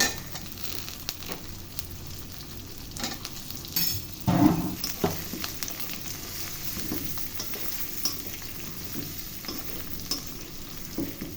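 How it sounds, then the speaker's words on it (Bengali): Pointed gourds frying in a pan with ground coriander and cumin, a steady low sizzle with occasional stirring scrapes, one louder burst of clatter midway, no voices. "১ চা চামচ ধনিয়া গুঁড়া, ১ চা চামচ জিরা গুঁড়া দিয়ে ভালো করে কষিয়ে নিয়ে আমি পটলগুলো ছেড়ে দিলাম"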